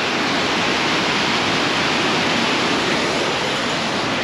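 Fast river water rushes in a steady, loud, full roar like a waterfall near Mattupetty Dam in Munnar, constant and close with no voices over it.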